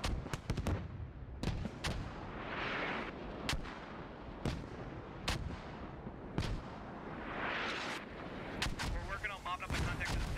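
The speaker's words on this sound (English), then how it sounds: "And they're mortaring the point again." Mortar rounds pound a capture point in the video game Squad. Heavy booming impacts and sharp cracks repeat at irregular intervals, some near and some distant, while a commentator talks over the barrage.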